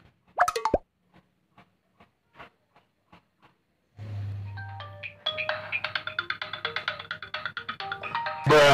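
A phone call to mom begins with a few faint taps, then a steady dialing tone, followed by a repeating electronic ringtone melody heard close and clear.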